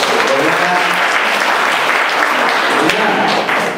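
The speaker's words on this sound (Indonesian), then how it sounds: "Kalau bangga sekali lagi kita kasih aplaus" A church congregation applauds children who have just performed at a Sunday service, a dense, steady wash of clapping from many hands that holds loud throughout, with a few voices faintly mixed in.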